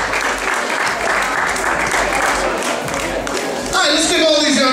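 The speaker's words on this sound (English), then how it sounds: "let's give all these young ladies a big round of applause" A crowd at a bikini contest awards ceremony applauds with dense, sustained clapping, loud and continuous, before a voice begins speaking over it near the end.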